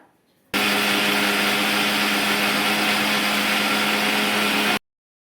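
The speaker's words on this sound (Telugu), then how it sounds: "ఇప్పుడు దీన్ని మనం పూర్తిగా గ్రైండ్ చేసుకోవాలండి పేస్ట్ అయ్యేలాగా" A mixer grinder blends cake batter into a paste, a loud, steady electric whir that starts abruptly after a brief quiet lead-in, runs unbroken for about four seconds, then cuts off sharply.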